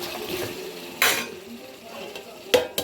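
A utensil scrapes and knocks against a cooking pan while eggplant and green chillies are stirred over a soft sizzle, with a few distinct clanks spaced across the moment.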